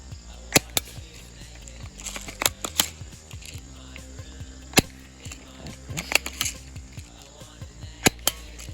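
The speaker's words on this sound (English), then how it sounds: "we're gonna be shooting some green tea Arizona cans, of course." Sig Air MPX air rifle firing at Arizona green tea cans outdoors, a series of sharp, close snapping shots at irregular intervals, some in quick pairs, with faint metallic clanks of the struck cans.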